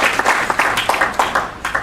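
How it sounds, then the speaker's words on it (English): Audience clapping at a fundraising event for Koohi Goth Hospital in Karachi, a modest round of applause with distinct individual claps in an irregular rhythm, fairly close and steady throughout. "We need some clapping for Dr. Shahid Malik"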